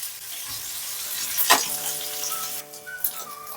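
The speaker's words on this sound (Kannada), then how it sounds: "ಇವನ್ನೀಗ ಸ್ವಲ್ಪ ಬ್ರೌನ್ ಆಗೋವರೆಗೂ ನಾವು ಫ್ರೈ ಮಾಡ್ಕೊಳ್ಳೋಣ" Paneer sizzles in ghee in a pan as it browns, a steady close crackle with a sharp spatter burst near the middle and faint clinks from stirring.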